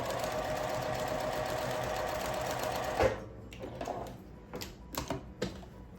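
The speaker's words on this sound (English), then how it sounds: "I'm just stitching right on that line it says" Sewing machine stitching a quilt block seam along a marked line, a loud, steady rapid whir for three seconds, then stopping, followed by soft handling clicks and brief bursts.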